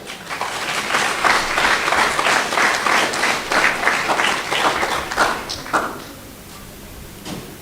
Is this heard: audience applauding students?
yes